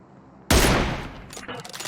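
Gunfire in the video game PUBG Mobile: one loud close burst of shots that fades into a quick rattle of further fire, with no one talking.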